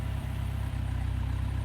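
An old John Deere 2020 tractor engine idles steadily nearby, a continuous low rumble with an even, throbbing pulse and no speech over it.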